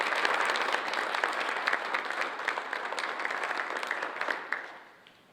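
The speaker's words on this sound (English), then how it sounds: "Please give them a round of applause." An event audience at a chef's appearance gives a round of applause, a dense, even crowd of clapping hands that holds steady, then fades away at the end.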